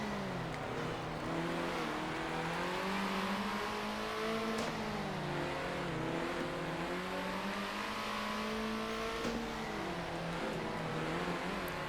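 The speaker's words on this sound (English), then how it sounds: "There's the cars coming out of the pits" Race cars pull out of the pits in the video game Circuit Superstars, several engines whining together with steadily climbing and dipping pitch, a continuous, moderately loud revving chorus with no talk.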